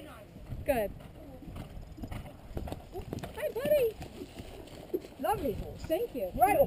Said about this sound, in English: Lovely horse.